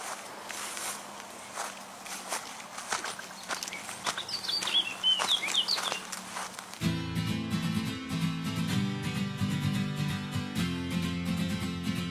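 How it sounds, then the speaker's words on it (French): Bird chirps ring out on a rocky summit during a hike, brief high calls scattered over footsteps crunching on stony ground, followed by a sudden switch to a denser, steadier mix of sound. "Oiseau."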